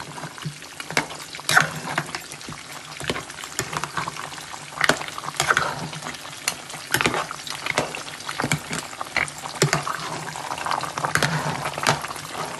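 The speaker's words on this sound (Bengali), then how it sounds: "এখন মশলা কষুক আর মিটও কষুক" Lamb meat and spices sautéing in a pan for lamb bhuna, a continuous sizzle with repeated scraping and stirring clatter at close range and no talk.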